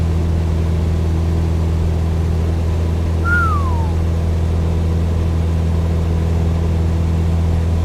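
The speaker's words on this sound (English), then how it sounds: "Probably shouldn't whistle into the mic" A single short falling whistle from one person, close to the microphone, rises briefly then slides down over about half a second, sitting over a steady engine-like drone from Microsoft Flight Simulator.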